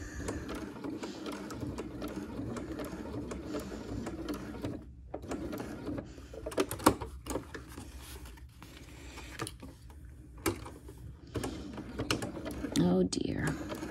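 A sewing machine stitches an X across a crossbody bag in short, uneven bursts of rapid mechanical clatter with pauses, clicks and handling noises between runs, close and moderately quiet.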